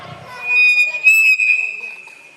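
A person whistles during a live outdoor Ramlila stage performance, a bright sustained tone that rises and holds steady, heard near and fairly loud over some voice sounds at the start.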